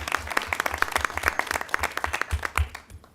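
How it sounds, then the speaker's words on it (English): Applause from a lunchtime audience at a Cincinnati Human Relations Commission talk, a fairly close, uneven patter of individual claps that swells and thins over a few seconds. "Please give her a round of applause."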